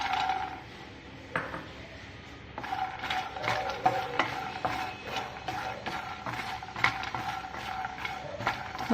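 Makhana (fox nuts) being roasted in ghee in a pan, stirred with a spoon, giving a steady scraping and rattling with soft sizzling and a few sharper clinks against the metal, close and continuous without talk.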